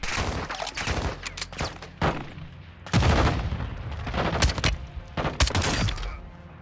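Gunfire in the video game Call of Duty: Modern Warfare II, with a sniper rifle in use against armored enemies during a prison break mission: dense, loud bursts of shots in rapid clusters over about seven seconds, with brief gaps between volleys.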